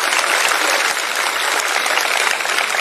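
A crowd at a public rally in Sansar claps to welcome Sharad Pawar, a loud, dense and continuous wash of applause that holds steady throughout without talk.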